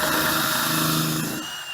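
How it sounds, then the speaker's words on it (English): A power drill with a 1/8 inch bit pre-drills a wooden cabinet stile, giving a loud, steady, close whine that winds down at the end. "So what I normally do is I take an 1/8 inch drill bit"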